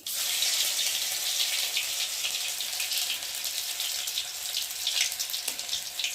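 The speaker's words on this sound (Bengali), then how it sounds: "আর এখন আমি জিরে দিয়ে ফোড়নটাকে ভেজে নেব" Cumin seeds fry in hot oil in a kadai, a dense bright hiss that sizzles steadily and close throughout, with no voices.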